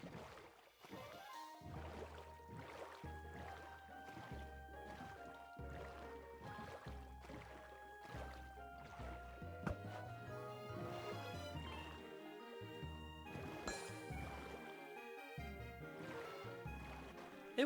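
Paddle strokes and water splashes from rowing a boat in Minecraft sound at a steady pace beneath gentle melodic background music, with no voices.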